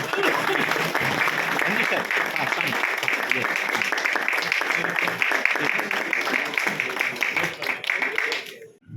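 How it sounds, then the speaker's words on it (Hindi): Loud, sustained applause welcomes a guest at a gathering of traders in a jewellers' market, a dense wall of clapping from a crowd that carries on for several seconds before cutting off abruptly. "जरूर जोरदार तालियों के साथ स्वागत करें।"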